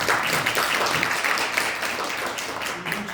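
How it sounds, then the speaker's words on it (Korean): Audience applause welcoming a lecturer at a talk on Jesus the liberator and the Korean peninsula: dense, steady clapping from a crowd fills the whole moment at an even, sustained level. "박수로 환영해 주십니다."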